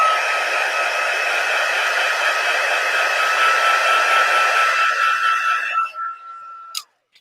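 Heat tool used to heat-set ink on a card, a steady loud whooshing whine held close for nearly six seconds before cutting off, followed by a click.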